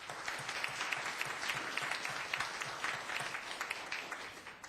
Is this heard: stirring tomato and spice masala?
no